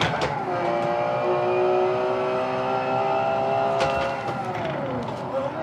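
Race car engine in a racing game on a flying lap of Road America, a loud steady whine holding high revs, then a sharp gear change and falling pitch as it brakes near the end.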